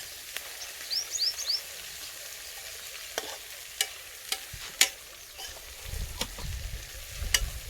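Amaranth greens (tandalja bhaji) are stirred in a frying pan over a steady sizzle, with scattered scraping clicks of the spoon and a few soft knocks, close by, and a faint chirp early on.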